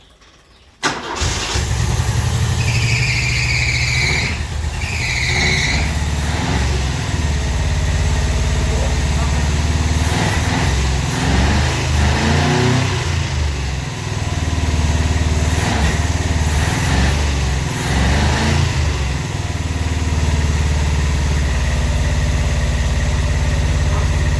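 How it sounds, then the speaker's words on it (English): A Renault 5 with a newly replaced fuel pump cranks briefly, catches and settles into a steady, rough idle that runs loud and close for over twenty seconds, with a few faint whistling tones early on. "Ignition on, pump is on."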